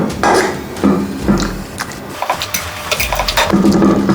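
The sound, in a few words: mashing chana dal with onion, tomato and garlic in a pot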